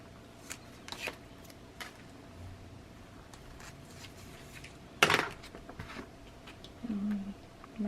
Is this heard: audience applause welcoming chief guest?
no